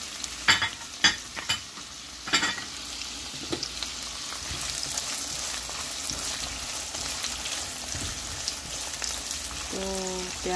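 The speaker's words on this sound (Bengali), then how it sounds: "প্রথমে আমি একটি ফ্রাই প্যানে তেল নেব পরিমাণ মতন, তারপর এখানে আমি পেঁয়াজ ঢেলে দেব" Onions frying in oil in a frying pan for a Bangladeshi chal kumra curry, a steady close sizzle running throughout, with a few sharp clicks and scrapes of stirring near the start.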